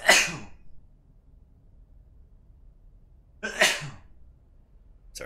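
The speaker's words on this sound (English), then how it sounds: "Sorry, I tried to sneeze away from the mic." Two sharp human sneezes, one at the start and another a few seconds later, each a brief burst followed by quiet room tone.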